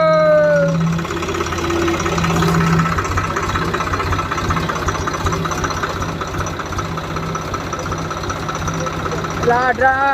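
A steady low engine rumble idles throughout, with a rhythmic knocking pulse and voices chatting over it.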